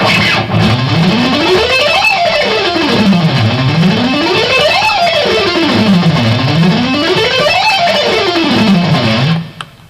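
A distorted electric guitar runs up and down a scale in repeated rising and falling sweeps, loud and continuous, with no talking.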